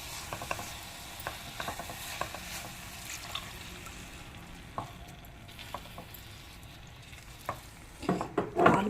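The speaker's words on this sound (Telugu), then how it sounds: "ఒక 3/4 కప్పు పాలు పోయాలి." Milk poured into a pan of wheat bread and jaggery halwa, with soft sizzling and stirring scrapes over a low steady hiss, plus a burst of louder bubbling near the end.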